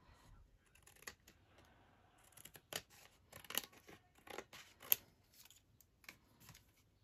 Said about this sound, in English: Just trim a little bit off on both sides.